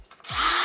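Bosch GSR 180-Li cordless drill driver spins up in reverse after a couple of soft clicks, its motor whine rising to a loud steady hum over well under a second.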